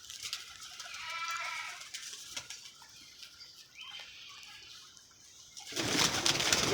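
Domestic pigeons being kept and handled: soft murmuring bird calls drift in and out over a breezy background, ending in a loud rush of rustling noise.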